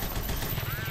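Rapid, dense gunfire from the 2D action game Huntdown fills the moment, a loud continuous rattle of shots over low rumbling game sound.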